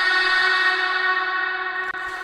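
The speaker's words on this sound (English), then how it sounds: "put some big long reverb. So my go-to reverb is Valhalla Vintage because I like it so much." Techno track element drenched in a big long Valhalla Vintage reverb, a sustained shimmering tonal wash that slowly fades and thins out, with a faint click near the end.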